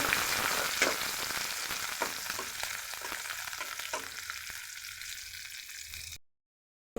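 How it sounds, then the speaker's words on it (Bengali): Chopped onions fry in oil in a frying pan, a loud, dense sizzle with stirring scrapes that gradually settles and thins before cutting to silence. "এখন দিয়ে দিচ্ছি কেটে রাখা পেঁয়াজ"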